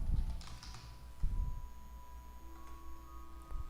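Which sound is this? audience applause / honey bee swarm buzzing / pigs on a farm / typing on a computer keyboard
typing on a computer keyboard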